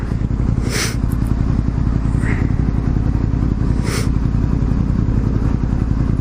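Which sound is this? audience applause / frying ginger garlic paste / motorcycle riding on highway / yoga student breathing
motorcycle riding on highway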